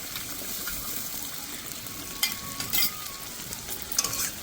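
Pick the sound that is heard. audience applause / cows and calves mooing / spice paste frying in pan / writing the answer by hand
spice paste frying in pan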